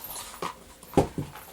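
A dog whimpers and pants in a few short, close bursts during a tic tac treat game demonstration, with brief quiet gaps between the sounds.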